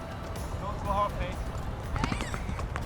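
A string of young racehorses, mostly two-year-olds, heads out from a historic racing yard to grass gallops on Warren Hill, hooves clopping in an uneven patter beneath a voice talking over them.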